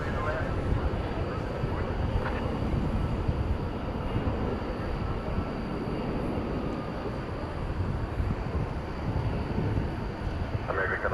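A Singapore Airlines Cargo Boeing 747-400 freighter at DFW at night, bound for Brussels, gives a steady, broad engine roar that holds throughout, with people talking intermittently over it.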